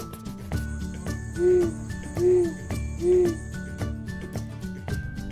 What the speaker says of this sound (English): O. Owl.